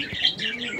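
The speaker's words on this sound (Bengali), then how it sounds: "এই মুহূর্তে আমরা দেখতে পাচ্ছি আরো এক জোড়া কবুতর" Pigeons at a pigeon farm, including Belgian bloodline birds kept in pairs, make a brief, close burst of soft cooing and chirpy calls that lasts under a second.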